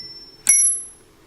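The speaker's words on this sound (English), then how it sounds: "The bells I adjusted, because you know I like my little clean ting" A single clean ting rings from an old telephone's adjusted bell, struck once, close and bright, then fading away over about half a second into near silence.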